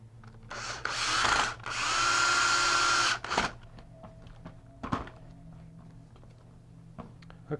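A power drill drives a drywall screw to reattach a hip to the spine of a corpsed skeleton prop, whirring in two sustained bursts close by, followed by clicks and light handling knocks.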